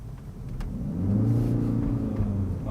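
A Ford Mondeo 2.0 Hybrid estate engine with CVT gearbox rises into a sustained, even whine as it accelerates smoothly without gear shifts, heard from inside, loud and steady.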